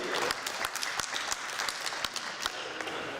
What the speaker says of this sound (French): Mesdames, Messieurs, vous pouvez m'applaudir